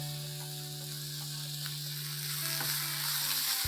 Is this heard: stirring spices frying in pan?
yes